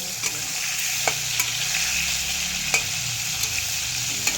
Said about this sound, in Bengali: চিংড়ি মাছটা ভাজা হয়ে গেছে